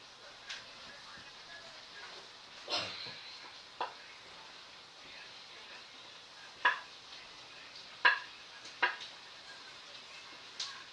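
Sausages and mixed vegetables cook in a small frying pan for a curry wurst dish, giving a soft, steady sizzle with a few light utensil taps and scrapes scattered through.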